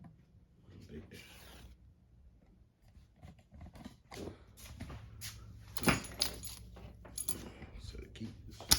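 Keys jangle and clink during an unboxing of birthday gifts, small metallic rattles and knocks scattered across a quiet stretch, close and fairly faint with a few sharper clinks.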